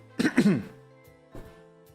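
A couple of close, harsh coughs in quick succession, followed by a softer throat sound after a short pause, in a quiet room.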